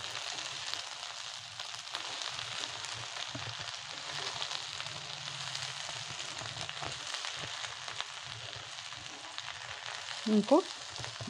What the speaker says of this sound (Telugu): బెండకాయలు కొద్దిగా సాఫ్ట్ అవ్వాలి, ఇది వేగనిచ్చి తర్వాత మిగతా ప్రాసెసింగ్ చూద్దాం